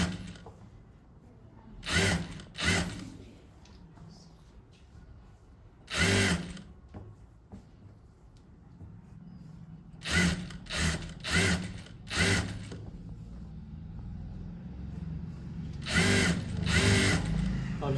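Sewing machine running a double-stitched garment seam in short bursts, several quick whirring runs of a second or two separated by pauses, close and clear over a quiet room hum.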